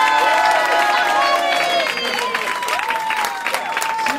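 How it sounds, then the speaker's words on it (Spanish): An audience applauds and cheers at a gold record presentation and music video launch for a rock band. The clapping is dense and continuous, with a voice and music-like tones running over it. "un aplauso fuerte para él"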